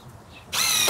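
Power drill driving a screw into wooden shed framing, a loud whirring burst starting halfway through and running to the end after a quiet lead-in.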